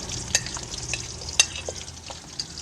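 Onions sizzle gently in a cup of hot oil, with soft, steady frying and a few sharp clicks of a stirring spoon against the pan, close by and without speech.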